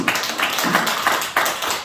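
A church congregation at a Sunday service breaks into brief applause, a dense patter of many hands with a few louder swells, lasting under two seconds.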